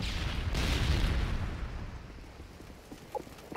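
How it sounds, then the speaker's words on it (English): A predator missile explosion from Modern Warfare 3 rolls out as a deep, broad boom that fades slowly, with a couple of faint pops near the end. "Friendly predator missile inbound."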